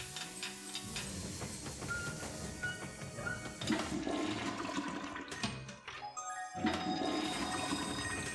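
Toilet flushing in the Luigi's Mansion 3 video game, a loud rushing water surge that cuts off briefly and then resumes, heard alone without talk.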